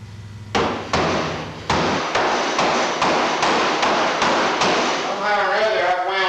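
Repeated hammer blows on the steel roof of a late-1940s GM Chevy Fleetline sedanette during a top chop, about eight sharp metallic strikes in an uneven rhythm, close and loud, with a voice coming in near the end.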